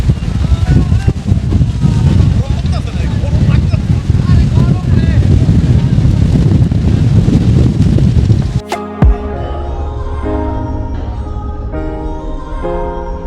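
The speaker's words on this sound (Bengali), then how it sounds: "প্রচুর বাতাস, এখন অনেক বাতাস দেখতে পাচ্ছেন, প্রচুর বাতাস হচ্ছে।" Strong wind roars with a heavy broadband rush on a passenger launch at night, then cuts out abruptly, leaving a quieter steady hum of engine and machinery.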